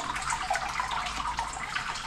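Sparge water pours steadily onto the grain bed through a sparge hat and center pipe in a Brewtools homebrewing system, a continuous close splashing flow with no voices.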